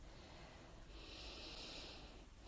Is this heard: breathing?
yes